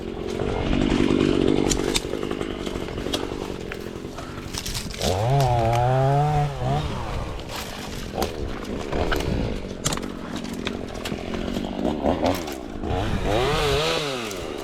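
A chainsaw runs loudly nearby, revving up and down as it cuts willow, with changing pitch and bursts of high engine whine throughout.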